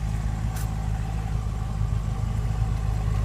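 A 2015/2016 BMW M6 Gran Coupe idles through its quad round chrome-tip exhaust, a steady low rumbling drone held at an even level throughout, close by with no talking.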